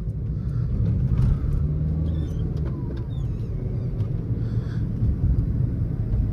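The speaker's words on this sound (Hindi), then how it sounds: "डीजल है, डीजल क्लटर है" A 2012 Suzuki Swift VDI diesel engine gives a steady, loud low rumble and clatter that runs unbroken from start to finish, with no voices over it.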